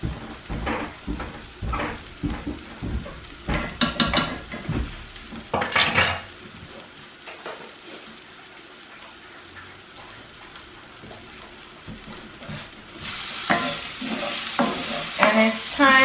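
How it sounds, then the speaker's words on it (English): Half a teaspoon of garlic sizzles in a hot pan while a utensil scrapes and clinks against the metal, with bursts of stirring, a quieter simmering stretch, then a louder surge of frying near the end. "just add a little bit of garlic, about half a teaspoon"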